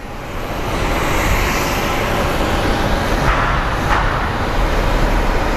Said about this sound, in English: we do have Sun Country Airlines taxiing out for its flight to Minneapolis